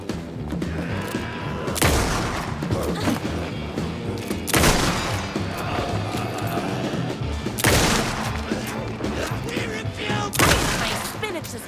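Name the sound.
gunfire in the video game Alan Wake 2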